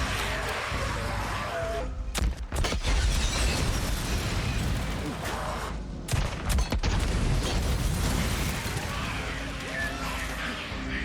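In Days Gone, a shotgun fires into a horde: a few sharp, loud blasts stand out over a constant roar of chaotic noise and crashing, dense and close.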